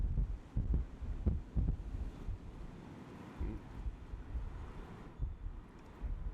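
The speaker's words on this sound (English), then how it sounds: "the wind particularly caught the tree just ahead of us" On a rainy day, wind gusts through a tree outside a window as a soft, low, rumbling whoosh that swells and fades in uneven surges, fairly faint and heard from indoors with no talking.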